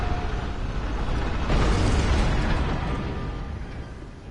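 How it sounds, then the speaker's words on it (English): Massive cannon blast in the video game Bloodborne, a broad roaring boom that swells around the midpoint and lingers as a dense rumbling wash before slowly fading, loud and with no voices. "he was firing a giant cannon at me"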